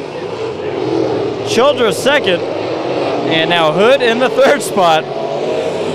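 Dirt track race cars at Bakersfield Speedway during heat races, engines droning and revving in a steady roar, with a loud announcer talking over the racing throughout.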